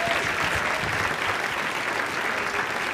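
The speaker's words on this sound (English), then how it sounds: "I think that deserves another round of applause." Audience applause after a conference session, steady, dense clapping from a sizeable crowd that stays loud and even throughout.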